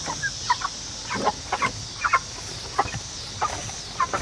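Chickens in a homemade coop cluck and squawk in short, scattered bursts from several birds at once over a steady background hiss, moderately close, with no talking.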